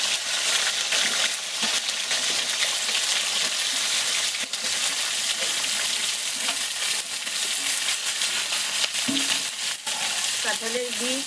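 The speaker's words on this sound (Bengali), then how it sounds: "এবার আমি কেটে ধুয়ে রাখা সবজিগুলো দিয়ে দেবো।" Vegetables including jackfruit seeds and potatoes go into hot oil in a pan for a vegetarian labra curry, producing a steady, loud sizzle and hiss throughout with occasional stirring scrapes near the end.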